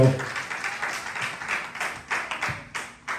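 A church congregation claps along in a quick, steady rhythm, the soft, fairly distant claps repeating evenly for a few seconds.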